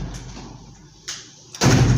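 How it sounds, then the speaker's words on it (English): A door is banged nearby in a room: a couple of dull knocks, then a loud, heavy thump that sustains to the end. "Who is banging that door?"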